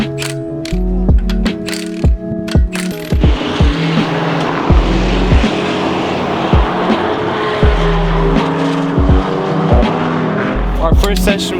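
Car lapping Laguna Seca Raceway in Monterey, California, on Continental Extreme Contact Force tires, its engine droning loud and steady with repeated gear-change pulses and rising revs throughout.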